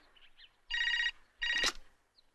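A telephone rings indoors in two loud, clear bursts separated by a short silence, with no voices over it.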